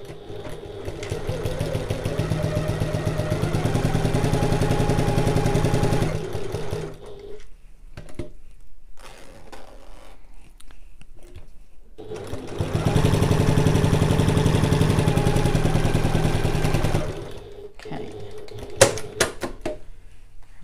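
A home sewing machine stitches a zip onto a large fabric bag, running in two steady mechanical bursts of about six and five seconds with a quiet pause between them, loud and close.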